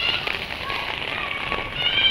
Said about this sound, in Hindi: थोड़ी सी बारिश हुई है तो पानी पानी है